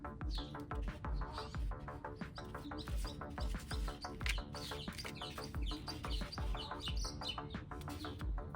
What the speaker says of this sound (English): Those birds never stop chirping